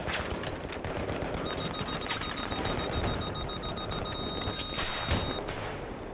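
Dense, continuous Battlefield 3 gunfire with rapid automatic bursts and sharp shots overlapping throughout, loud and near, with thin electronic tones running steadily over the shooting.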